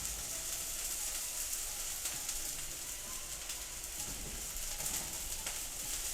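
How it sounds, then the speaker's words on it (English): Vegetables cooking in a hot pan for a Peruvian dish, a steady, fairly quiet sizzle with a few soft stirring clicks, continuous and without talk. "So I'm going to take the meat out, saute the vegetables."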